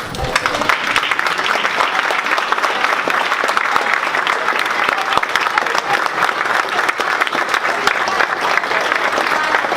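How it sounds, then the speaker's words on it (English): A large crowd at a Senate meeting claps loudly and steadily, a dense, sustained round of applause with no pauses. "please stand up and give him a really big round of applause"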